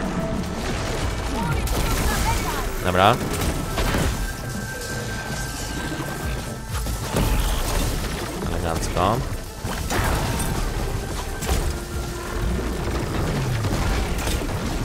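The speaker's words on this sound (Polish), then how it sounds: "Powinna być znowu eksplozja elektryczna." Electric explosion bursts in Horizon Forbidden West, the Burning Shores expansion, booming and crashing repeatedly through dense combat noise while someone comments briefly.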